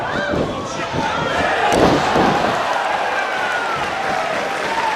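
A wrestler is slammed down onto the ring mat during a tag team match, a heavy thud against loud crowd noise and applause, with a commentator talking over it.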